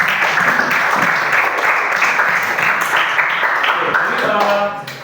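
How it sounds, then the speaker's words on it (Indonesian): A class of students in an Indonesian school lesson applauds classmates after their presentations, a dense, loud wash of clapping that holds steady and then tapers off at the end, with some voices mixed in. "Kita berikan tepuk tangan sekali."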